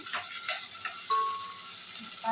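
Onions frying in oil in a pan for a Mangalorean chicken curry, a soft continuous sizzle with a few stirring scrapes, close and fairly quiet.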